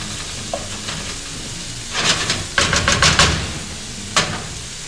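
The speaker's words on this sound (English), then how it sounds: "So just let that fry up for a bit." Ingredients for fried rice sizzling in a hot pan, a soft steady fry with louder bursts of crackling and stirring in the middle and a brief clatter near the end.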